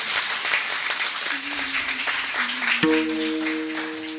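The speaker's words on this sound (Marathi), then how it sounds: "यांच्यासाठी एकदा जोरदार टाळ्या होऊ द्या" Audience at a Marathi kirtan breaking into loud, dense clapping that continues throughout, with a sustained musical tone entering partway.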